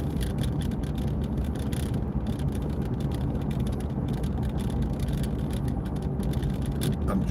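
Steady road and engine rumble fills the cab of a moving truck, a dense, constant low drone with tire and wind hiss that holds evenly throughout, with no talking.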